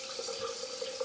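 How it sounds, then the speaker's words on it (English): Tap water runs steadily into a sink while skin is rinsed, a soft continuous splashing hiss heard alone and fairly quiet. "I rinsed with warm water, now I rinse with cold."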